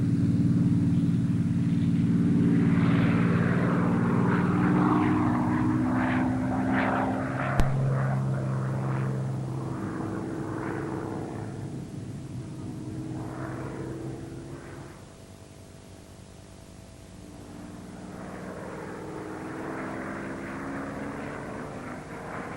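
A Supermarine Spitfire fighter aircraft drones loudly overhead, its engine note rising and then fading away before a second approach builds again, heard alone without voices.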